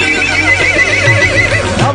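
A horse whinnies loudly and close by in a village setting, a wavering, drawn-out neigh that runs through the whole moment without speech.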